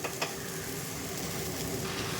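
Green chillies sizzle steadily in hot oil for a tempering, with turmeric and asafoetida added, giving a close, continuous crackling fry that stays even throughout with no talk.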